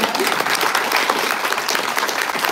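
A crowd at a literary author event applauds steadily, dense clapping from many hands filling the whole stretch at a consistent, fairly loud level.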